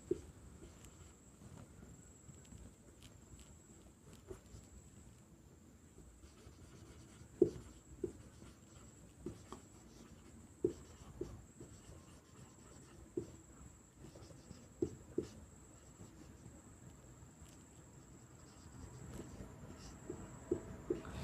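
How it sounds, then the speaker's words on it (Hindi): A pen or chalk writing during a Hindi grammar lesson, with soft continuous scratching and scattered light taps of strokes over a faint steady high hiss, close and quiet, with no talk. "तो हम लोग लिख लेते हैं"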